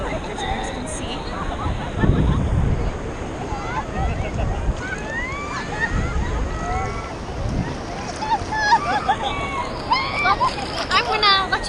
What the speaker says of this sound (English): I'm gonna let you guys go and enjoy these waves